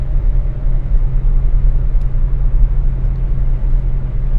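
Inside a 1969 Cadillac Eldorado on a night drive, a steady low engine and road rumble hums evenly and fairly loud, a smooth continuous drone with no talking.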